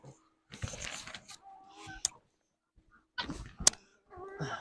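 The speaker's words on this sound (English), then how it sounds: "Surrounded by ducks everywhere." Ducks call from inside a barn in short, scattered bursts of quacking and squawking, close and fairly soft, with quiet gaps between the calls.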